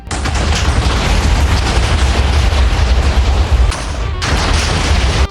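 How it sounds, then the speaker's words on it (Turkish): Dense, booming Minecraft TNT explosions rumble nonstop for several seconds, broken by one brief gap, loud and close with no talking. "Ve biraz daha patlama."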